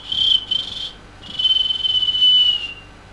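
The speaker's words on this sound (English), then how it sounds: "pulled the whistle to his lips" A shrill whistle sounds twice, a short blast followed by a brief gap and then a longer sustained one with a slight warble.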